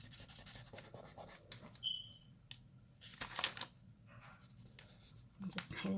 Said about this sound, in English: And just kind of draw an outline.